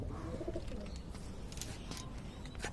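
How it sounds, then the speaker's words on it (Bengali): Domestic pigeons coo softly in a backyard loft, low throaty burbling calls repeating over a faint background hiss, with a few brief higher chirps; no one speaks. "উঠতেছে কবুতর, চারটা কবুতর উঠতেছে।"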